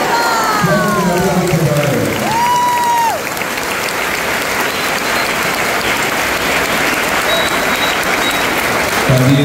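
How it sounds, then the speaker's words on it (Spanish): Sustained crowd applause at a Santiago festival procession, dense and steady for several seconds, with a few whistles and cheers riding over it and a brief voice near the start. "Fuerte el aplauso para ellos también."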